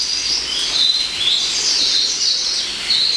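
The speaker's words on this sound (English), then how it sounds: "This section got the birds in it, as you can hear them tweeting." Birds kept indoors beside a koi pond chirp and tweet in quick, overlapping high calls, fairly close and steady over a soft background hiss, with no talking.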